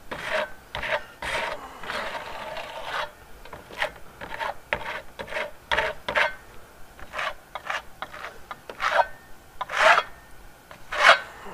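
A trowel spreads Venetian plaster on a wall, giving repeated scraping and rasping strokes in an uneven rhythm, close and fairly loud, with no voices.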